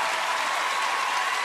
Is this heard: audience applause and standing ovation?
yes